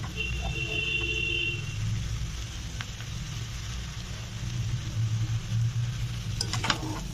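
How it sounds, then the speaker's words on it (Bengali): Maggi noodles being stirred in a pan, with a steady low sizzle and soft scraping close by, a few faint clinks near the end, and no talk. "এর মধ্যে দিয়ে দিলাম ম্যাগিটা, দিয়ে এর সাথে ভালো করে নাড়াচাড়া করে নেব"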